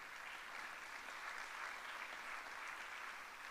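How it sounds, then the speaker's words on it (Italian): An audience at a cultural event applauds film critic Paolo Mereghetti with sustained, even clapping from a roomful of people, quiet and somewhat distant, unbroken and without voices. "grazie Paolo e ancora un applauso"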